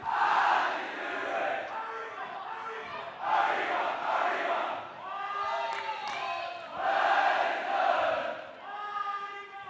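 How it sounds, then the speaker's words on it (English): Home crowd at an under-15 schools netball match at Wellington College chanting in rhythmic, rising and falling waves of massed voices, loud and sustained over several seconds. "Well, the Wellington chants start again here."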